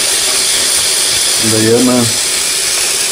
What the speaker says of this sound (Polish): do garnka z wodą, do pustego garnka wodę